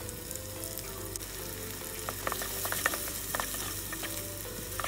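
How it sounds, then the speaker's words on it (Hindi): Sliced onions fry in oil for a Hyderabadi chicken dish, giving a continuous, fairly quiet sizzle. Faint irregular crackles and pops sit over a steady background hum. "प्याज मैंने डाल दिए है और इसको हमने तब तक फ्राई करना है जब तक ये गोल्डन नहीं हो जाता"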